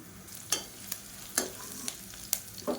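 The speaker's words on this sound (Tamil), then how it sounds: "இப்போ வெங்காயம் நல்லா வதங்கிடுச்சு" Onions sautéing in a pan: scraping stir strokes at irregular intervals over a steady low sizzle, close and moderately loud, with no talking.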